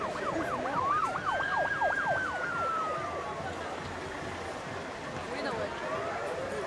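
Emergency sirens in Molenbeek, Brussels, wail with fast rising-and-falling sweeps, then a slower long tone, over a dense background with people talking.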